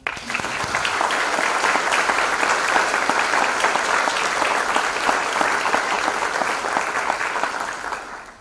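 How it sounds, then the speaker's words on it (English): Sustained audience applause at a college honors convocation, dense steady clapping from a large crowd that swells quickly, holds loud and even for several seconds, then tapers off. "Let's join them in applauding."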